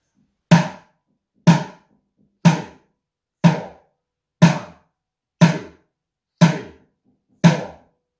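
A homemade bucket drum struck with spoons in a steady 4/4 quarter-note pulse: eight evenly spaced dull, thunky hits about one second apart, each decaying quickly into silence, close and clear with no talking.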